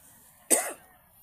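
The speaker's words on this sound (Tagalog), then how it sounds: "Ubo" One short, sharp cough close by, alone against quiet background hiss, at a fish corral.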